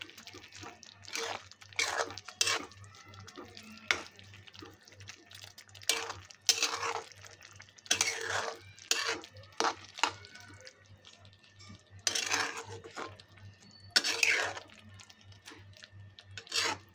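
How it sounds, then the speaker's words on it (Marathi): Soya bean keema being stirred into an oily masala in a pan, with repeated scraping and clinking of a spoon against the metal, in bursts of busy stirring separated by short pauses, close and fairly loud, no talking. "आता आपण जे सोयाबीन चा किमा करून घेतलेला आहे हा आपण याच्यामध्ये टाकून घेणार आहोत"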